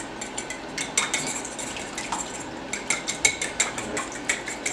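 Whisk clicking and scraping against a bowl while stirring a Frank's hot sauce mixture for crispy fried chicken, a quick irregular rhythm of light metallic taps, close and moderately quiet, without talk.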